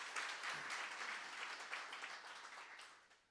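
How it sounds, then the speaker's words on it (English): An audience at a university business and industry engagement event applauds, a broad wash of clapping that stays full before gradually fading toward the end. "Let's give her another round of applause."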